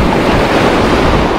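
Sea waves washing onto the shore at Lazarevskoye near Sochi, a loud, close, continuous rush of surf with wind noise buffeting the microphone.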